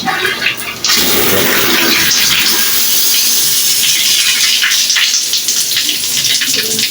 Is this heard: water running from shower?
yes